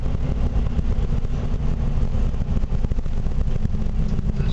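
A 2005 Ford F350 long-bed truck engine runs smoothly at a steady, even rumble, close and continuous with no breaks or talking.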